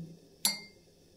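A spoon gives a single bright clink against a cup while sugar is added for coffee; it rings briefly and fades in an otherwise quiet room.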